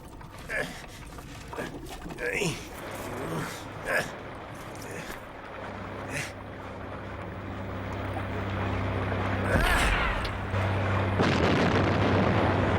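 Artillery blows up a ship in an animated film, with a rumbling boom and low mechanical roar swelling mid-scene after scattered clanks and voices, rolling on loud toward the end.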